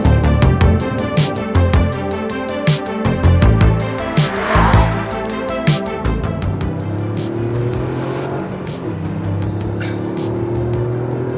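A Toyota GR Yaris is driven hard, its engine revving up and down with sharp gear changes and tire squeal, loud and close throughout, settling into a steadier drone toward the end.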